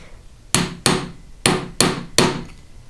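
Five sharp, evenly spaced hammer strikes flatten and smooth rivet heads on a riveted, textured metal disc bracelet, each blow close and loud with a short ringing decay.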